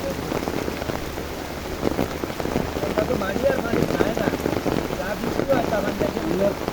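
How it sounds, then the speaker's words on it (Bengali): Heavy monsoon rain pours steadily in Comilla during the rainy season, a dense continuous patter of drops on surfaces at moderate loudness with no voices. "বৃষ্টি কিন্তু ভালো বৃষ্টি হইতেছে"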